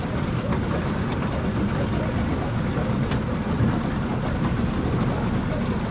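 An outboard motorboat pushing along close to reeds in a waterway, its engine a loud, continuous rumbling roar mixed with rushing water and wind noise.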